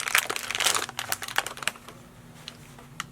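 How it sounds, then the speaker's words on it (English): An aluminum foil package holding a saliva drug test device is peeled open up close, a burst of crinkly crackling and tearing that tapers into a few faint crinkles, no talk. "you want to take the device out of the aluminum foiled package. By peeling the package"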